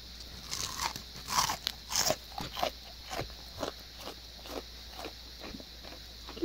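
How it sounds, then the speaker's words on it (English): Someone bites and chews crunchy homemade fried onion rings coated in breadcrumbs, producing repeated close, crisp crunches in an uneven chewing rhythm over a steady faint background hiss. "I want you to listen how crunchy they are"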